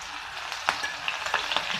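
Green chilies with ginger and browned garlic frying in hot oil for a spicy okra dish, giving a soft steady sizzle with a few sharp crackles and pops, close by and with no talk.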